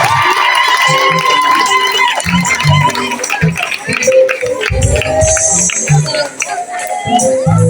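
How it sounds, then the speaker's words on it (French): At a school awards ceremony, an audience applauds a young pupil called forward: loud, busy crowd noise with clapping, cheering and children shouting, mixed with voices speaking throughout. "On va l'applaudir très fort"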